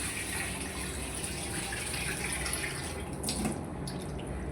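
Tap water runs steadily into a sink while raw chicken is rinsed for biryani, a continuous close, loud gushing and splashing with no break across the whole stretch.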